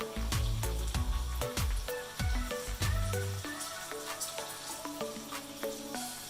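Hot oil poured over a chili and salt mixture hisses and crackles loudly, with sharp pops and bubbling that settle into a softer steady sizzle.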